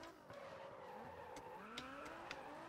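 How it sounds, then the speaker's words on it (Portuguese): A car drifting in the racing game GRID Autosport, with a steady engine drone and tire squeal sliding up and down in pitch, plus a few faint ticks, at moderate distance and without talk. "mas o carro derrapa"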